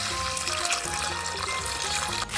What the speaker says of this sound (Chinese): 用温水泡一下，